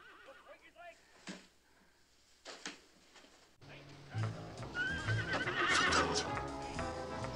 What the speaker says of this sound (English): Your sister's on that horse again.